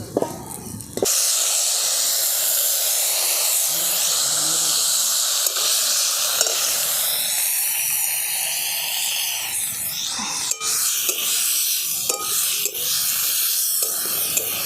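Water poured onto gadal leaves and vegetables frying in a pan for a traditional jhol, bursting into a loud, close, continuous hiss that steadies into sustained sizzling with occasional pops.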